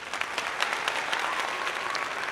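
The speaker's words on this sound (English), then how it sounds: "let's give her a round of applause." A round of applause from an audience, continuous even clapping with a few sharper individual claps standing out, heard alone without speech.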